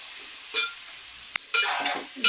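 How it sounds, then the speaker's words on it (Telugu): Washed chicken pieces frying in a pan for a chicken curry, heard as a low sizzle broken by three short bursts of stirring that scrape and hiss, close and moderately loud, with no one talking. "మనం కడిగి పెట్టుకున్నాం కదా చికెన్, దీనికి కావాల్సింది ఇది కూడా వేసి ఒకసారి ఫ్రై చేసుకుందాం."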